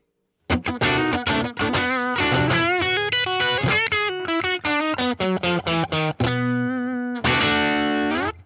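Distorted electric guitar with a Fender Tone Saver treble bleed circuit and volume rolled off slightly, playing a run of sustained chords and single notes, bright and crunchy, with a steady loud level and no voices.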